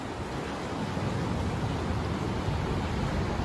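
Big ocean waves wash against the Sri Lankan shore in a steady, hissing roar of surf, with wind buffeting mixed in, continuous throughout.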